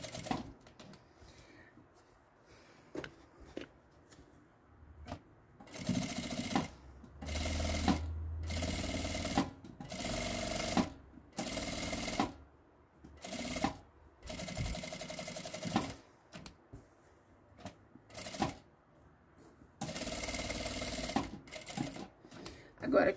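Sewing machine stitching along the edge of a dish towel with a fabric band, running in short and longer bursts of rapid mechanical whirring with pauses between; someone talks in between runs.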